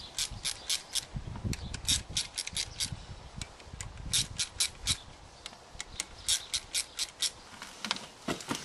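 A ratchet loosening the 10mm clutch cover bolts on a Yamaha Fazer motorcycle, with quiet, rapid clicking in repeated short bursts, close by and without talk.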